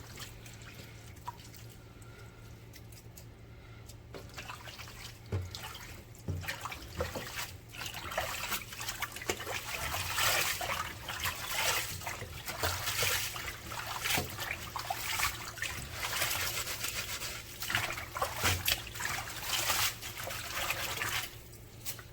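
Kale leaves being swished and rinsed in a bowl of water, with steady trickling, dripping and sloshing that runs continuously at close range, growing busier partway through, with no talking.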